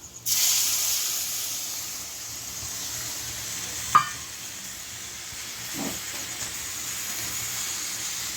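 Okra and gram flour curry with yogurt stirred in a pan, a steady soft sizzling hiss with one sharp utensil clink and a later faint scrape, close by with no speech.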